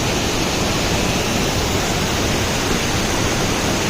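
Banjhakri waterfall in Sikkim roars as a steady, loud, broadband rush of falling water, constant and unbroken throughout with no voices.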